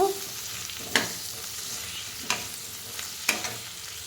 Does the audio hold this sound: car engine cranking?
no